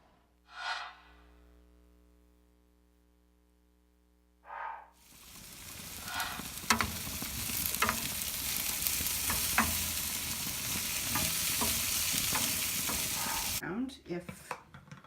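Meat hits a hot gas grill for a reverse sear and sizzles loudly and steadily for several seconds after two brief breathy sounds, with crackles and pops throughout before it cuts off.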